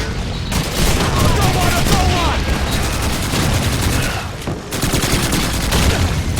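Dense, loud gunfire in the World War II shooter Call of Duty 2: rapid volleys and bursts of rifle and machine-gun shots with booming impacts, nearly continuous for several seconds, with a voice faintly underneath at times.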